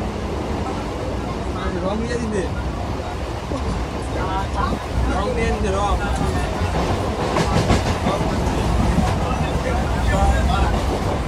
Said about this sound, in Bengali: স্টেশন থেকে এখন ট্রেনে উঠলাম। তো ট্রেনটি এখনই ছাড়বে শিয়ালদার উদ্দেশ্যে।